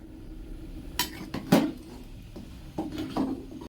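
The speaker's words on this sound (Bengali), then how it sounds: "এটা খিচুড়িতে মাঝে মধ্যেই খুন্তি নাড়তে হয়, নালে তলা ধরে লাগে।" A spatula stirs khichuri in a cooking pot, with several sharp scraping knocks against the metal and quieter rubbing strokes in between over a low kitchen hum.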